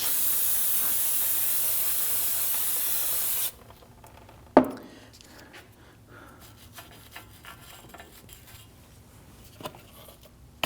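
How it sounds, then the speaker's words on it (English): A continuous loud hiss of aerosol solvent sprayed onto the rear brake rotor of a 2013-2019 Ford Police Interceptor Utility for a few seconds, stopping abruptly, followed by a sharp clank and faint scraping and handling noises. "spray it down with some solvent"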